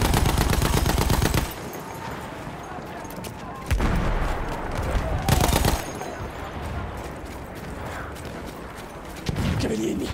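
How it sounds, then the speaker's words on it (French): An enemy machine gun in Battlefield 1 fires loud, rapid bursts, near and harsh, stopping and starting several times with a battle rumble and voices between the bursts. "Là, mitrailleuse ennemie."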